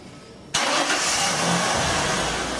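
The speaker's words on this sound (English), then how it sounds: "Go ahead and start the car." A car engine cranks and catches abruptly after half a second of near silence, then settles into a steady, close, even idle that runs to the end, with no talking.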